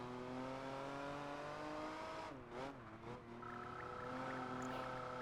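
A TVR sports car's engine holds a steady, loud harmonic drone in Project Gotham Racing 4, dipping briefly as revs fall and then climbing again, with a faint squeal of tires near the end.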